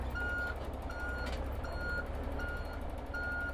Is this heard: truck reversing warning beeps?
yes